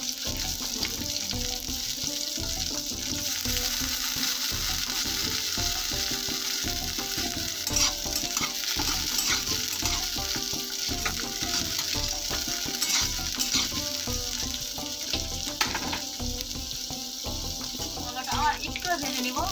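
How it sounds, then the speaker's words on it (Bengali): Two medium-sized bitter gourds frying in oil in a home kitchen, a steady, dense sizzle running unbroken throughout, close and moderately loud, with faint stirring underneath. "এবার এই তেলের মধ্যে না আমি করলাটাকে ভেজে নিব।"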